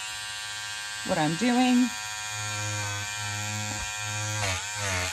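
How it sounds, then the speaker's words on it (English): A small electric motor in a Peggy stitch eraser buzzes steadily at close range, a high whining hum running throughout while a person speaks briefly over it. "Okay, so the Peggy Stitch Eraser is next. It's as loud as the other one."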